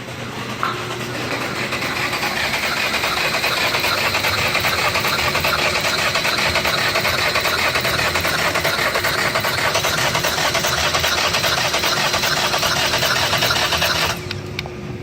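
Chevrolet Cruze 1.4L engine cranking steadily on the starter during a compression test, a continuous rhythmic churning whir held at even loudness for about fourteen seconds before cutting off, with no talking.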